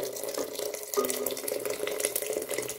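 Water poured steadily into a pot of green lentil soup with noodles, a continuous splashing gurgle at close range with no talk.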